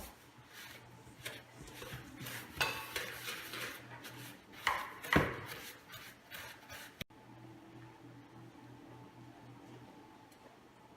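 Butter and sugar creamed by hand with a wooden spoon in a bowl, irregular soft scraping and thudding strokes at close range for several seconds, then a quieter, near-silent stretch.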